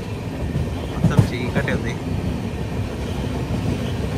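Gowthami SF Express running through Chandanagar station, a steady rolling rumble of the moving train heard from on board, with a brief spoken remark over it.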